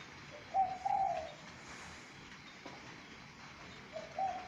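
Spotted dove cooing: one short rhythmic phrase near the start and a faint fragment near the end, over quiet background with no talk.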